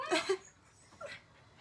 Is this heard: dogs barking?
yes